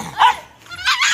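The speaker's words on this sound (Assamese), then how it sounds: "ইহঁতে আকৌ কুকুৰ যুঁজাইছে" Dogs fighting at a staged dog fight, with short yelping and whimpering bursts, a sharp cry, a brief lull and then more high-pitched yelps, fairly close and loud.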